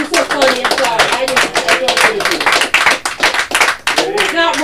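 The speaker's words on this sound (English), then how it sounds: "let's give him a round of applause." A comedy club audience claps loudly and rapidly for a performer, with sharp, close hand claps running throughout while people talk and laugh over the applause.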